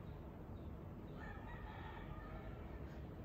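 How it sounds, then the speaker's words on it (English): A rooster crows faintly in the distance, a single drawn-out call rising briefly out of low background noise. "you're gonna hear a rooster in the background"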